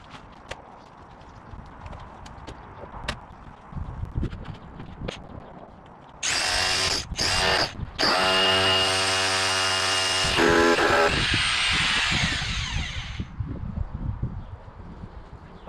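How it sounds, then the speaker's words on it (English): A Bosch cordless SDS drill fitted with an 8mm bit and a 4Ah battery hammers loudly in several close bursts during groundwork prep for a bonsai area, then runs in one long sustained stretch before stopping. "So we've got the Bosch battery SDS drill, an 8mm SDS drill bit"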